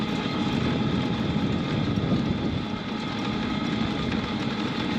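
A tuk-tuk engine running steadily while driving in Pamukkale, Turkey, a loud continuous mid-range drone with road and wind noise and no break.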